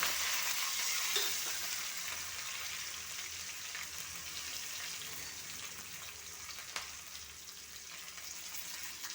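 Ginger, garlic, green chili, onion and curry leaves fry in hot oil and are stirred, making a continuous close, hissing sizzle with faint scraping throughout.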